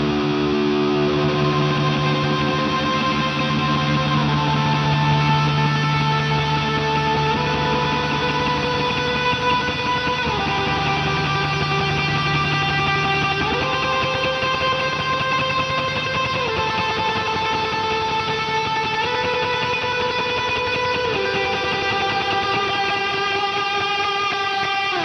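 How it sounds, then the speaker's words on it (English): Electric guitar through a Mooer GE150 Max Rat model into a Plexi amp with a 1960 cabinet, ping pong delay and cave reverb, slow sustained distorted notes gliding between pitches with a wide, echoing wash and no talking. "This is the Rat model running into the Plexi, into the 1960 cabinet, then for delay we're using the ping pong delay,"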